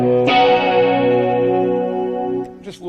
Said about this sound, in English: It's an old vintage ADA flanger.